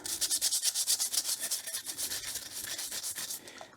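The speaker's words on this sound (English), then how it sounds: "you really want to give these a good clean, good scrub" Rusty plane blade and chip breaker scrubbed clean after an Evapo-Rust soak, a steady rapid scratchy rubbing with rhythmic back-and-forth strokes, close and fairly quiet, with no talking.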